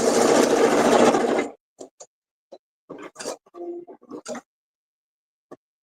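A sewing machine stitches a fabric strip for a quilt, running in one loud continuous burst and then stopping, followed by a series of faint, sparse clicks and short mechanical taps.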